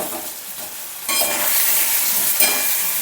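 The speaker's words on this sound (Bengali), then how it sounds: "খুব ভালোভাবে নাড়িয়ে নিচ্ছি দিয়ে দিচ্ছি ভেজে রাখা আলু মশলার মধ্যে" Spiced fried potato and soybean mixture stirred in a pan for soybean muitha, a steady close sizzle with scraping spoon strokes that swell louder after the first second, no voices.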